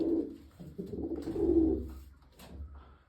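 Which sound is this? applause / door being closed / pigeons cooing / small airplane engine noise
pigeons cooing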